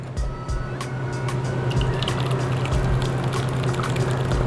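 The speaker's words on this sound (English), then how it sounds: "it's time to pour this right inside" Homemade pasta sauce pours steadily into a pot, giving a continuous wet, dripping flow beneath a low steady hum from the kitchen.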